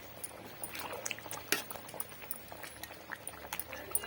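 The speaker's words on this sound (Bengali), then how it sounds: "ফুটে গেছে এর মধ্যে আমি বড়াগুলি দিয়ে দিলাম" Lentil vadas simmering in a bubbling curry, giving a faint, steady crackle of small bubbles with scattered soft pops and splutters, close by and without speech.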